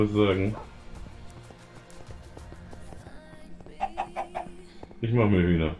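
Chickens cluck in Minecraft, with short repeated clucks and pecking sounds over low game background noise. Someone talks at the start and again at the end.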